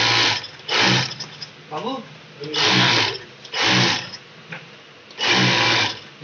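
Flat lock sewing machine running in loud bursts, about four to five runs with short pauses between, close by; someone speaks briefly during a gap.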